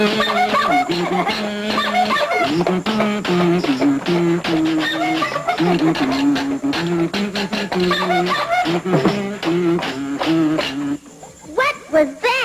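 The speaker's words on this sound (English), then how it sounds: "That was the sound of a one-man band." A one-man band playing a busy, bouncy tune with a steady melody line over clattering percussive taps and jingles, loud and continuous before thinning out into a few scattered hits near the end.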